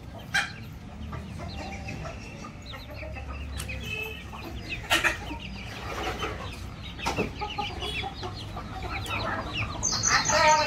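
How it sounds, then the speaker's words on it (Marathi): A lame hen and other chickens cluck and call over a steady background, with a few sharper squawks standing out; no one speaks. "मी ती कोंबडी दाखवते तुम्हाला"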